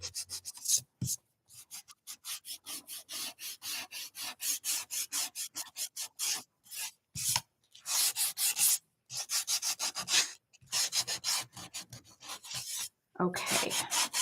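Sandpaper rubbed by hand over painted wood for an Easter craft, in quick repeated back-and-forth strokes with short pauses between bursts, close and steady, with no talk over it.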